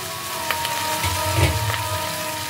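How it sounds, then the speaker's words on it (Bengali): Prawns dropped into a hot pan with vegetables for Bengali-style chilli prawn, giving a steady frying crackle with a brief louder burst of sizzle midway, close and alone. "এবার এর মধ্যে দিয়ে দিচ্ছি চিংড়ি মাছগুলো।"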